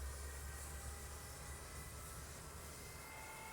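An F-5 Freedom Fighter jet engine spools up in Microsoft Flight Simulator, a steady low roar with a high whining hum that holds evenly throughout, fairly faint.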